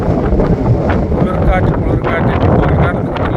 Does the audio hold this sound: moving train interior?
no